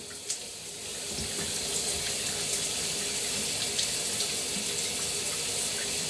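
Shower water runs in a steady, loud hiss and spray, continuous throughout and heard alone without talk.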